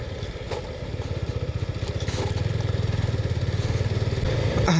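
A motorcycle engine runs steadily during a ride on a road with rough patches, giving a close, rapid, even thrumming pulse that grows slightly stronger as the bike picks up pace, with no talking.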